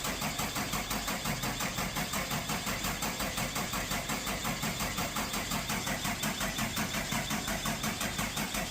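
A NOCO jump starter cranks a 13-litre engine in a long, steady, rhythmic churning of the starter motor. The cranking carries on at an even pace without catching, loud and close.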